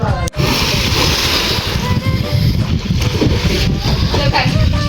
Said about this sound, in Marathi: आता तर चाललो मी पोहायला